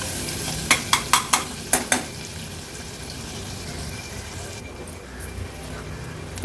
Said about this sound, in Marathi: कांदा तेलावर व्यवस्थित शिजवून घ्यायचा आहे